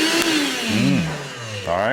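An Evolution cordless battery vacuum spins up with a rising motor whine and a steady hum, while someone speaks briefly over it.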